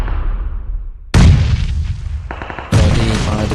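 Loud explosions in the battle-royale game BGMI during an esports tournament match, a sudden heavy boom followed by a second blast and debris, close and powerful.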